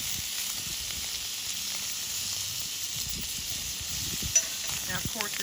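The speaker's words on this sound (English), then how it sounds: "the beans we've raised up, and they're just kind of simmering" Dried beans simmer in a Dutch oven set over an open campfire, giving a steady, soft, close bubbling hiss with faint crackles and one brief sharp tick.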